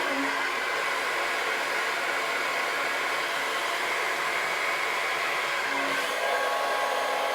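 A hair dryer blows continuously nearby, a steady loud whooshing hiss with a slight motor hum that shifts briefly near the end.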